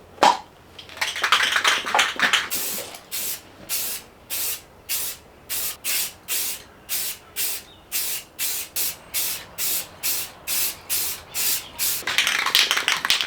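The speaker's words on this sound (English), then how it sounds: "Definitely not a painter, but I can do something with a rattle can." Rattle can spray paint going onto outboard motor parts in short repeated hissing bursts, about twenty evenly spaced sprays with brief gaps, close and fairly loud, with longer continuous sprays at the start and end.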